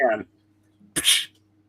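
A person vocally imitates a cat's sneeze with a short breathy 'psh' burst after a brief bit of speech, close and clear in a quiet room.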